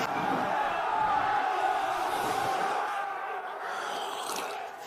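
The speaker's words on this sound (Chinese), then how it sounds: "您听听外面的欢呼声" Crowd of townspeople cheering outside in the capital city, a dense, continuous roar of many voices that stays loud and steady throughout, easing slightly toward the end.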